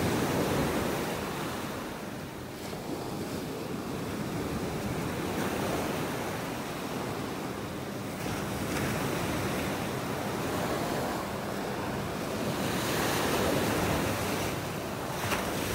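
Rough ocean waves break on a beach in North Naples, Florida, rolling in as a continuous wash of surf that swells and recedes, with wind buffeting the microphone and no voices.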